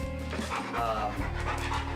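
A large shelter dog pants steadily and rhythmically close by, heard under continuous talking.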